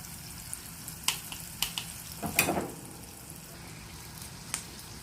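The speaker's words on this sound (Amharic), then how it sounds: "ብራውን ሲሆንልን ከስር እንዲህ ግልብጥ ያረግን እንጠብሳለን።" A burger patty fries in a pan with a light steady sizzle, punctuated by several sharp clicks and a brief louder scraping burst near the middle.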